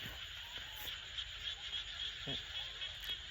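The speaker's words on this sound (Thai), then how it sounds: "เสียง กบ เสียงเขียด" Frogs croak in rice paddy fields on an evening walk, a steady chorus of calls over insect-like buzzing and soft wind noise, moderately distant.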